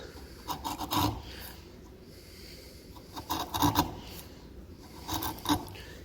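A chisel paring and scraping through timber while cutting a recess for a door hinge, heard as three rasping bursts with quieter scraping between them, close up and with no speech.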